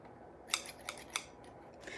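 Scissors snip up close, with a few sharp, crisp cuts spaced irregularly over a quiet background and no talking.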